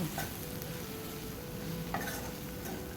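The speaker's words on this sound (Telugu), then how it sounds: "దీన్ని బాగా మిక్స్ చేసుకోవాలి" A cluster beans stir-fry with salt, chilli powder and chickpea flour sizzles steadily in a pan while a spoon stirs it, with a few soft scraping taps over the constant frying hiss and no talking.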